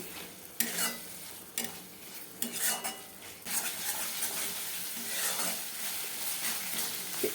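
Chopped tomatoes stir-fried with spice paste in oil in a pan for vetki fish-bone chorchori: repeated close scraping strokes of a spatula over a steady, loud sizzle, with no voices.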